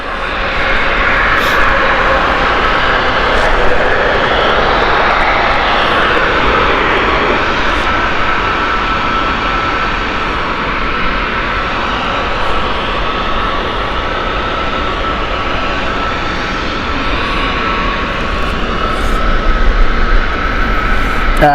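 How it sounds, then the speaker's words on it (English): An EasyJet Airbus A319 jet airliner at Gatwick Airport makes a loud, sustained engine roar that holds steady for the whole stretch, with no speech over it. "EasyJet to Catena flight here. EasyJet Airbus A319."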